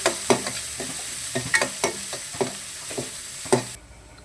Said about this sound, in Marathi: टमाटर टाकून असं फ्राय करायचं